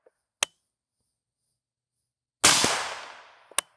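Unsuppressed gas-powered gun fired at targets: two sharp, isolated cracks well apart, with a louder burst in between that trails off in a long hissing decay. No voices.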